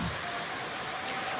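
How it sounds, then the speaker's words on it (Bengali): Heavy rain falling over Dhaka city at night makes a dense, steady hiss of drops on surfaces that continues without a break. "নগরীর ঢাকাতে প্রচুর পরিমাণে বৃষ্টি পড়ছে"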